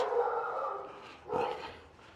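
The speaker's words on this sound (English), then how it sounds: "He says as the dog barks." A dog barks twice close by in a back street of Los Olivos, Adeje, a drawn-out bark followed after a short pause by a sharper second one, with no talking.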